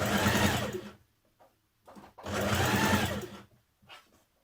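A sewing machine stitches a double-fold hem along the bottom of a dress, running in two long bursts with short pauses and a brief final spurt, close and steady.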